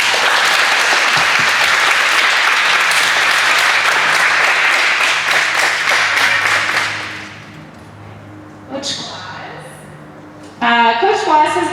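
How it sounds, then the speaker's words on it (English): At a field hockey awards ceremony, an audience gives the coaching staff a loud, sustained round of applause that fades after about seven seconds, followed by quiet room sound and then a person speaking. "a big round of applause"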